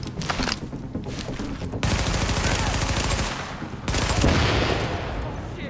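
Gunfire in the Tom Clancy's The Division video game comes as loud, sustained automatic bursts with brief pauses between volleys, while a voice speaks faintly underneath.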